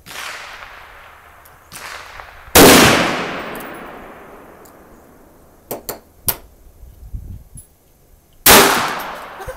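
.22 caliber gunfire at a shooting session, three sharp, loud cracks spaced several seconds apart, each ringing out into a decaying echo, with a few smaller clicks and knocks between them.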